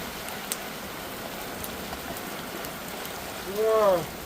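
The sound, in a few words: heavy monsoon rain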